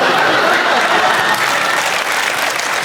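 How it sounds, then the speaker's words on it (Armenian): A studio audience at a TV talk show gives dense, continuous applause. The clapping is loud and close and sustained throughout, with no break. "Ծափարում ենք"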